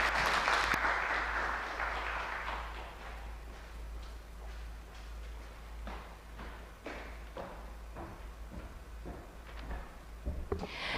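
Applause for speaker Limbani Segani of MACRA at a real estate engagement meeting in Mzuzu, loudest at the start and then thinning into scattered individual claps and thumps over a low steady hum.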